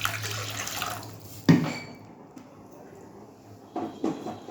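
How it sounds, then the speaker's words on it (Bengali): Water is poured into a cooking pan, giving a short hiss and splash with a clatter of the pan, then a quieter sizzle and a few more small splashes and knocks. "আমি জলটা ঢেলে দিলাম।"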